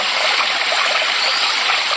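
Water rushes and burbles steadily in a close, continuous stream, bright and hissy with no voices over it.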